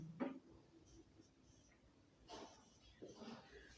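A pen writing during a maths lesson, a few short scratchy strokes in separate bursts at the start, middle and end, faint and close with quiet pauses between.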